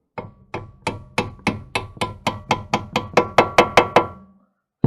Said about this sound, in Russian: Немножко молоточком.